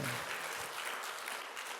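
Dense, continuous clapping from a church congregation during a sermon fills the whole moment, steady and even with no pauses.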